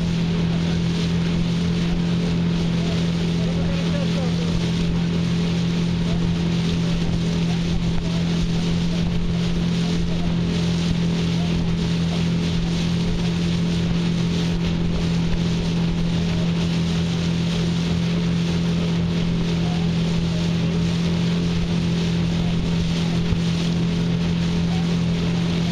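A motorboat engine runs at full throttle with a constant, loud droning hum and wind rush across the microphone, steady throughout with no change in pitch.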